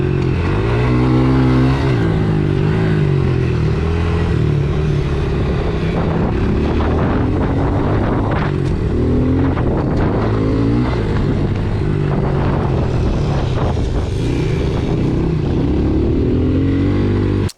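Honda CRF110 dirt bike engine running on a racetrack, a loud, continuous buzzing drone with rising and falling revs as the rider accelerates and eases off, close and unbroken throughout with no talking.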